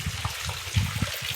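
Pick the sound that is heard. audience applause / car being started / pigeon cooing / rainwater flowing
rainwater flowing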